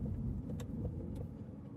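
An Aston Martin Vantage sports car engine hums steadily at about 2,500 RPM, fairly quiet with a low continuous rumble and faint ticking from the cabin.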